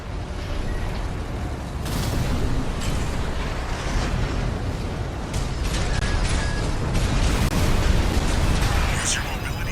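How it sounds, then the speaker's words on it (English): Heavy rumbling explosions and mechanical battle noise fill the ground-level action of the mecha game Armored Core 6, a dense, loud, continuous barrage with bursts layered under the game's voice chatter. "Use your mobility in the air to get clear of explosions on the ground."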